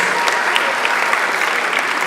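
A crowd claps continuously and fairly loudly, a dense, even burst of audience applause from start to finish.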